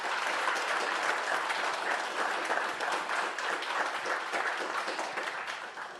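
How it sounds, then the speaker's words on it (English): A hall audience at a book event in Inuvik claps for Mickey, steady dense applause holding at an even level throughout before easing slightly at the end. "Let's give her a big round of applause."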